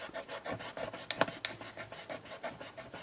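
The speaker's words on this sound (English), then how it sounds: "you stick it down and then you rub it" A rub-on transfer being rubbed down onto paper with a popsicle stick, giving quick rhythmic scraping strokes, close and fairly quiet, with a couple of sharper scratches midway and no talk.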